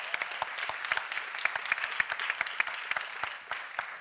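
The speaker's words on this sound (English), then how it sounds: "So can we have a round of applause for them?" Steady applause from an audience at a science-communication competition semi-final, dense overlapping claps continuing at an even level throughout.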